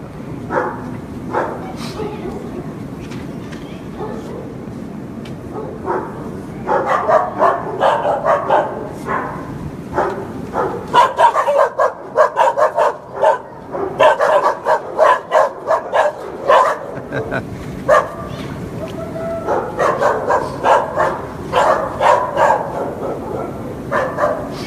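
Many dogs bark and yip at an animal shelter in steady, overlapping bursts that grow denser and louder midway, heard up close with little talk.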